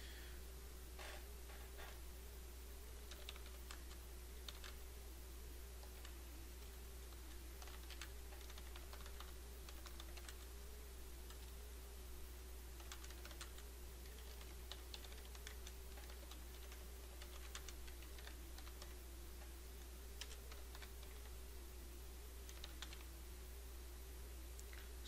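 Typing on a computer keyboard, a quiet run of light, irregular key clicks and taps over a steady low electrical hum, faint and close, with no speech.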